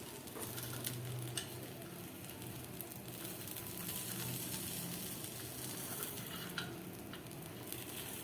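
Rava appe fry in a pan with a continuous soft sizzle and crackle, with small scattered pops and no voices.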